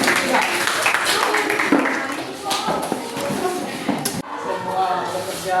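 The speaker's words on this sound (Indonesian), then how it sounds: "Tepuk tangan untuk kelompok 3" Applause for a group of students in a classroom, a dense patter of claps from the class running throughout under a murmur of voices.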